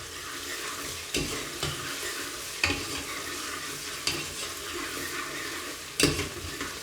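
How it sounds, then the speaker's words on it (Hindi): Ginger garlic paste fries in a pot for beef chana dal gosht, a soft continuous sizzle broken by several sharp spoon knocks and stirring scrapes. "तो यहाँ पे अभी अदरक और लहसुन की पेस्ट शामिल कर देंगे।"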